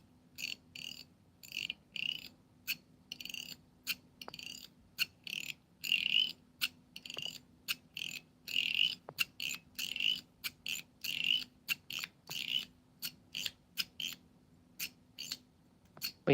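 A fidget toy pops and clicks in quick, uneven bursts that sound a bit like a frog croaking. The sounds are close and fairly quiet, keep going for a long stretch over a low steady hum, and no one talks.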